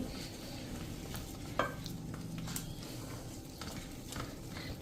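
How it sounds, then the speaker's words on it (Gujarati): Gram flour dough for gathiya being beaten and mixed by hand, a soft continuous squelching and stirring with a faint sizzle-like texture and one brief louder knock, close and steady. "આ રીતે એકદમ સરસ આપણે મિક્સ કરીને અને 5 મિનિટ આને ફેટી લેવાનું છે"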